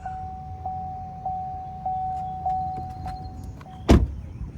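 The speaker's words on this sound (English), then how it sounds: "That dinging is really loud." Inside a 2022 Chevrolet Bolt EUV, a warning chime dings about six times at a steady, evenly spaced rhythm, clear and close, before a short thump near the end.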